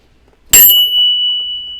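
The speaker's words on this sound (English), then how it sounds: "Can I get a bell ring for the first thumbs up?" A single bright bell ding rings out suddenly and sustains with a long, clear fading tone, loud and alone.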